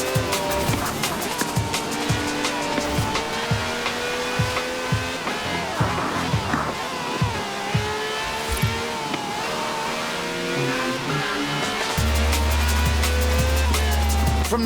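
A V12 car with over 750 horsepower driving in Forza Horizon 4, its engine droning steadily throughout with shifting revs, brief tire-like squeals, and a heavier, louder roar setting in near the end.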